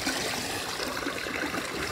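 A small garden pond waterfall, fed by a pump too fast for its box, trickles and splashes in a steady, close wash of running water with no break and no voices.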